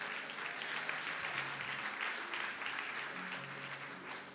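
Church congregation applauding and cheering in praise of God, steady dense clapping with a faint voice underneath.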